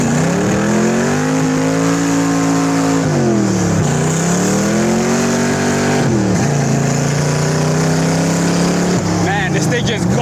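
Close, loud engine of a 1929 Ford Roadster accelerating while driving, pitch climbing through the gears in repeated rising sweeps with drops at each shift, backed by wind roar and a constant drone throughout.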